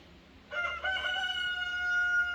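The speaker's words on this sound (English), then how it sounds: "the roosters are squalling" A rooster crows once at a distance on a rainy day, a faint drawn-out call rising over a soft background hiss.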